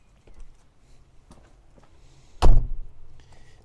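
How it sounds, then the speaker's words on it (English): A door swung shut with a single sharp, close thud, followed by a brief rattle and a few faint handling knocks. "By the time you close the door,"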